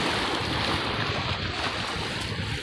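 Sea waves surround a small paddled boat out on open water off Joroan, Tiwi, Albay, heard as a steady, dense wash of rushing water and wind buffeting the microphone, continuous and fairly close, with no voices.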